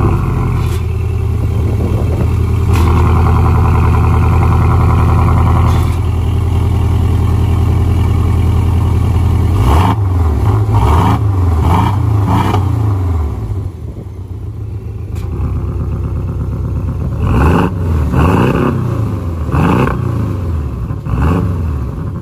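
A 2018 Porsche 718 Cayman exhaust rumbles loud and close, first holding a steady idle drone, then rising and falling through a series of sharp revs and blips.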